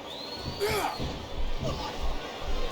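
A wrestling arena crowd during a WWE table, ladder and chair match roars as a steady, loud background wash, with commentary voices and whistle-like cries rising over the din.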